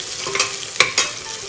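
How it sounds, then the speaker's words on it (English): Onion fries in a cooker, a close, steady sizzle broken by a few quick stirring scrapes and clicks against the pot. "Wait for the onion to fry a bit, become translucent."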